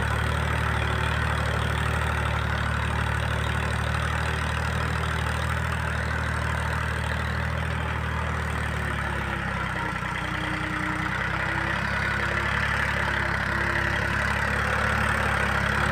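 A Mahindra 265 tractor running with a tiller attached, its diesel engine giving a steady, continuous low rumble throughout with no talk, the pitch dropping slightly partway through.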